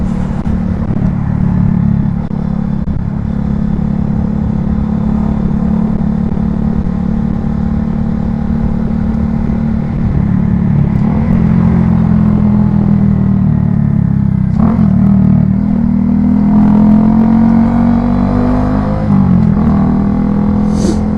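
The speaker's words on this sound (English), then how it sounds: "this little exhaust, bro, from Amazon doesn't sound bad, man." A vehicle fitted with an aftermarket MOVO exhaust bought from Amazon drones loudly and steadily, a deep idle-like rumble with a few rising revs and clattering notes over about twenty seconds, no talking.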